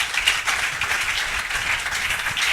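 A church congregation applauding together, a steady dense wash of clapping lasting throughout, moderately close and fairly loud.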